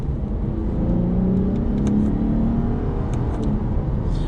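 A 2021 Lexus IS 350 F Sport engine revs steadily during a downshift in sport mode, with a low, rising drone and whirring tone, close and continuous, with no voices.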